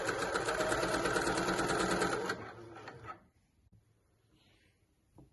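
A sewing machine stitches down the sleeve seam of a dress, running loud and steady for about two seconds before it stops, followed by a few quiet handling sounds.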